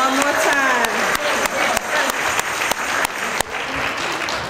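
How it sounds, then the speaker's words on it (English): An audience at a Chicago city treasurer campaign event applauds the Mount Vernon Baptist Church Choir, sustained clapping punctuated by sharp louder claps and a few cheers. "applause for Mount Vernon Baptist Church Choir one more time."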